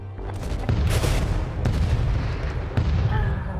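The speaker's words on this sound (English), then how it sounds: "Further explosions outside." Explosions in the video game GTA 5: a continuous loud barrage of booming blasts and gunfire-like bursts, with several sharper cracks standing out over dense low rumbling.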